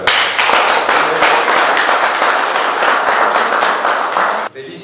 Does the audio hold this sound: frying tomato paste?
no